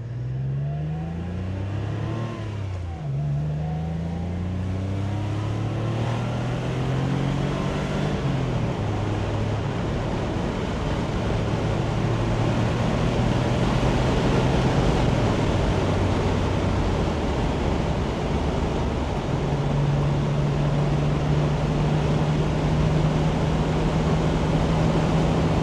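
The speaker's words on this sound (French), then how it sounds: "On va solliciter un petit peu plus notre Porsche." A 1988 Porsche 911 Targa 3.2 Jubilee is driven briskly on a road. The engine note climbs and drops through several gear changes, then settles into a steady drone under loud wind and road rumble, heard from inside the car.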